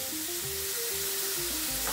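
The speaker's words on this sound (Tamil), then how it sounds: "இது ஒரு நிமிஷம் வதங்கட்டும்." Onions sizzling and frying in a hot pan, a steady close crackle with a faint tonal hum over it.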